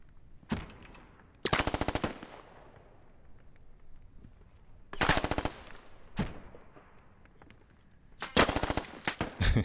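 Bursts of automatic gunfire crack out in a military video game, several sharp rapid volleys separated by quieter gaps with a few single shots between.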